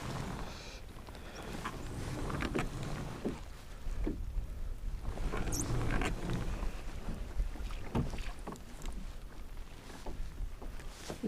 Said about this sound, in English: the wind's blowing me pretty fast now